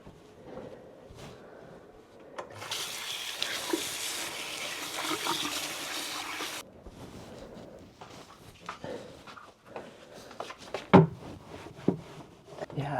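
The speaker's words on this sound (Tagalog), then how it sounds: "maghuhugas tayong basahan" A cleaning rag is washed under running tap water, with a steady splashing gush in the middle stretch followed by wet wringing, dripping and clattering handling sounds nearby.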